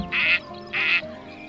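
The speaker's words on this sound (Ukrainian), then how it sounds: "Качка" Two loud, nasal duck quacks, spaced about half a second apart, close by with a faint hum between them.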